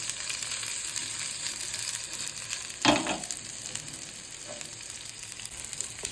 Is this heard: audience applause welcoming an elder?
no